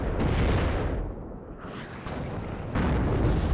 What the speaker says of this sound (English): Conqueror's firing some shots off